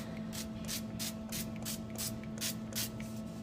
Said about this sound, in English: I'm just going to give it a little spritz with fry light